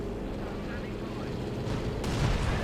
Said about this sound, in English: Units there getting hammered by mortars and whatnot